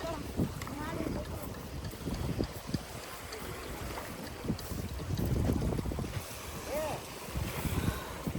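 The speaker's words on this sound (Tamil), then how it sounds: "அதான் நம்ம போட்டு வந்தாச்சு." Small fishing boat arriving out at sea, its motor a low steady rumble under heavy wind buffeting and water wash, with people talking in the background.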